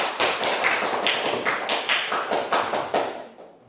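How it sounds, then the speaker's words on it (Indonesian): A classroom of pupils claps for a classmate called up to the front, a dense run of quick claps near and steady for about three seconds before thinning out and stopping. "Tepuk tangan untuk David."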